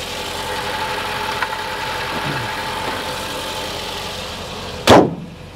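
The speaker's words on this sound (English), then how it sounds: "I'll get a little of the exhaust note back here for you." A Porsche engine, not running perfectly after 25 years off the road, idles with a steady exhaust drone, then a sudden loud burst near the end.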